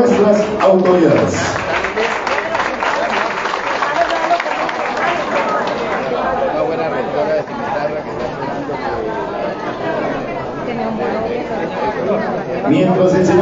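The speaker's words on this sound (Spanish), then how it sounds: "con ese aplauso que le estamos dando a nuestras autoridades" Applause and crowd chatter from a school community at Colegio Nuestra Señora de la Candelaria welcoming the Santander governor and other authorities, a steady wash of clapping and voices throughout.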